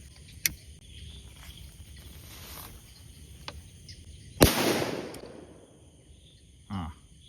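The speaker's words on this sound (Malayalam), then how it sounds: "ഒരു പടക്കം കത്തിച്ച് എറിഞ്ഞ് അവന്മാരൊന്ന് പേടിപ്പിച്ച് കളഞ്ഞാൽ" A firecracker thrown to scare animals away from a prawn trap bursts with one sharp loud bang followed by a short fading rumble. Faint clicks and crickets sound outdoors before it, and a brief whoosh follows.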